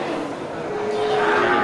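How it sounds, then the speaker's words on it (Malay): Aceh cattle at a busy livestock market, with a sustained low moo rising over dense crowd murmur and market noise, fairly loud and close. "ini terlihat juga sangat banyak ini sapi-sapi Aceh"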